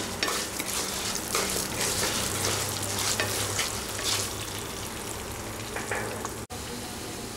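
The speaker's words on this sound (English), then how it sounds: "After frying this for 1 minute" Steady crackling sizzle of red lentils (masoor dal) and tur dal frying in a pan for haleem, with occasional scraping stirs, close and continuous with no talking.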